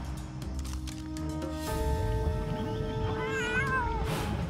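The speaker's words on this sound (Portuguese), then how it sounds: "aquele dinossauro está a miar" Cartoon cats disguised as a dinosaur meow over a backing music score, the high wavering meows rising clearly in the second half of the clip.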